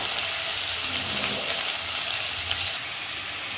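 Chicken pieces frying in hot oil, a loud continuous sizzling hiss that drops slightly in level near the end.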